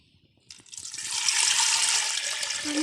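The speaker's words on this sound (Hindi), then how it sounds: "इसमें मैं 1 जग के करीब पानी डाल दूँगी।" About a jug of water is poured into a pot for mutton soup in a kitchen, starting abruptly after a short quiet moment and building into a steady, close splashing pour with no talking.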